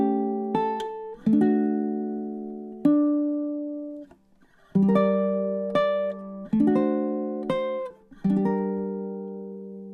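Solo ukulele plays a chord melody stanza of a blues tune, with a series of plucked and strummed chords ringing and decaying in an unhurried rhythm, close and clean without talking.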